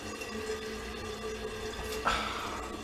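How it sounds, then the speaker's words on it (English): A toilet tank refilling with water, a faint steady hiss and trickle of filling continuing throughout, with a brief louder rush of water near the end. "The toilet's still filling."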